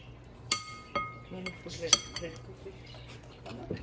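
Ingredients for cooking grunt fish get mixed in a bowl, with scattered clinks and scrapes of utensil against dish, several sharp ringing knocks then softer stirring, fairly near and quiet.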